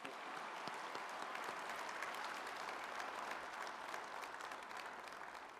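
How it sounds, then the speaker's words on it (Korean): An audience at a regional high-tech industry briefing applauds business leaders with sustained, even clapping at a fairly distant, moderate level, with no voices over it. "우리 박수 한번 부탁드리겠습니다."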